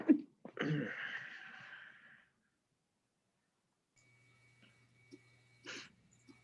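A single sneeze bursts out near the start, followed by a breathy trailing exhale, then near silence with faint background noises, in a plan commission meeting.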